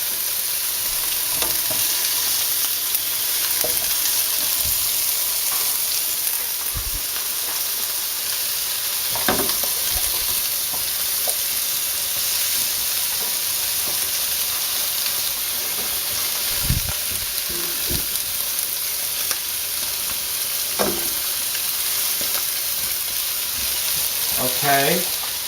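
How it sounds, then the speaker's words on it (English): Mushrooms fry with prosciutto in a pan, giving a close, steady crackling sizzle throughout with occasional clicks and utensil taps, and faint speech now and then underneath. "the mushrooms are gonna cook with the prosciutto."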